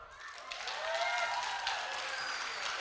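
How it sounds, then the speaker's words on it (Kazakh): Wedding guests in Nukus, Karakalpakstan, clapping as one side of the hall, a continuous moderate patter of many hands, steady and fairly close. "Амирбек жақтан келген болса шапалақ ұрады."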